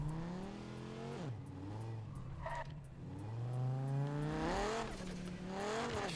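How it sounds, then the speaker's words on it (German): A Dodge Viper engine in Need for Speed revs up and drops repeatedly, a steady growling drone with rising and falling pitch sweeps, fairly quiet and without speech. "Ich finde, der Motorklang richtig cool."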